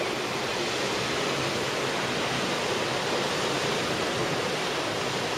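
Sea waves wash onto the shore in Bulgaria as a steady, soft, hissing rush with no distinct breaks and no voices.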